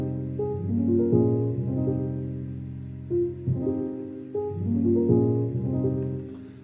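Looping music track built from sustained chords repeating in a stretched-out pattern, steady and moderately loud with soft attacks and no voices.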